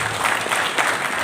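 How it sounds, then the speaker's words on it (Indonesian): An audience claps for Habib Nasrullah at a meet-and-greet event in Kebumen, a brief, dense burst of steady applause filling the room. "tepuk tangan buat Habib"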